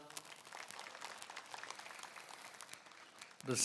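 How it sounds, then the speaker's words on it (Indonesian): Audience applause at a university graduation ceremony, moderate crowd clapping spread through the hall, with a louder burst near the end. "Tepuk tangan untuk beliau"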